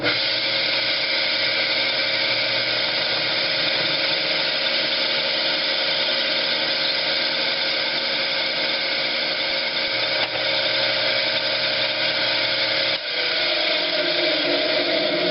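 A steady high-pitched whine of a drill bit cutting into a brass shaft for a 1926 McCormick Deering governor throttle lever, continuous and close, with a brief shift in tone near the end.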